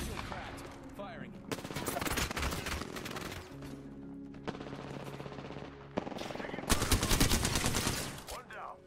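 Automatic gunfire in the battle royale shooter Apex Legends comes in several loud rapid bursts separated by short pauses, the last burst the strongest, with game sounds between them.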